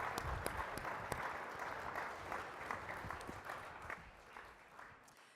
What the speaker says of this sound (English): Please give Wolf and his whole gang another hand of applause